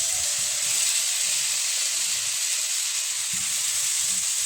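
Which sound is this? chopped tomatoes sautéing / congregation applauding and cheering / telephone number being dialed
chopped tomatoes sautéing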